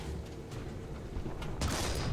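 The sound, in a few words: tank shell hit, Hetzer, from a video game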